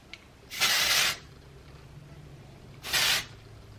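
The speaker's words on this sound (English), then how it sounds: "spray at the root, go down another inch, spray at the root" Two short bursts of dry shampoo sprayed from an aerosol can at the hair roots, each a crisp hiss lasting about half a second, separated by a pause with only faint room noise.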